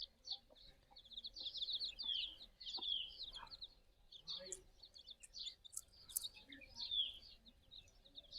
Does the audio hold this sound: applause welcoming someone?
no